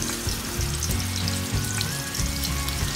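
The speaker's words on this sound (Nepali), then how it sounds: "मैले अघि हामीले मेरिनेट गरेको सबै चिकनहरुलाई एक-एक गरेर फ्राई गरेर तपाईहरुलाई देखाउँछु" Marinated chicken pieces frying in a pan for a chicken tikka masala, a loud, dense, steady sizzle with crackling oil and no talk.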